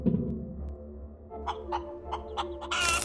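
A chicken clucks in the space survival video game Breathedge, a series of short clucks over a steady low game ambience and hum, ending in a burst of bright noise.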